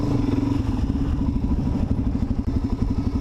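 Suzuki DRZ400 dirt bike riding a trail, its single-cylinder engine thumping steadily up close, with rattles and clatter from the rough ground and no talking.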